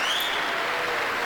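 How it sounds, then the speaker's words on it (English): Concert crowd applause faded in on a live record from Watkins Glen, a continuous broad wash of clapping from an audience, with a brief whistle-like tone near the start. "They're fading down the studio portion of it and bringing in the applause."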